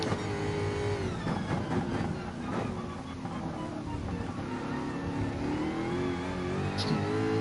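Racing car in a video game cornering at the Red Bull Ring in second gear: a continuous engine drone that rises and falls with the throttle, with tyre and track noise, steady and close.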